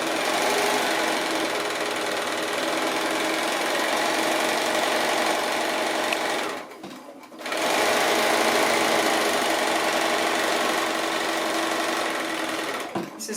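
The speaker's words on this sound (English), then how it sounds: "So I'm just going to do those 4 lines of sewing." A sewing machine runs steadily, stitching quarter-inch seams on 10-inch quilt squares. It hums and clatters fast and close for about six seconds, stops briefly, then runs on at the same pace.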